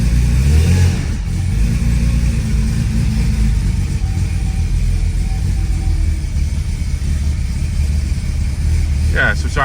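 A 1987 Porsche 930 Turbo engine idling after a cold start, a loud, steady low rumble close by, with people talking over it and a brief rise in revs near the start.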